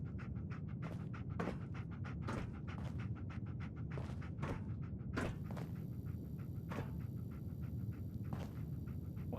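Dogmeat, the companion dog in the Fallout 4 video game, pants steadily in quick rhythmic breaths, close and clear, with a few soft footstep-like taps and a faint ringing tone entering midway; no one speaks.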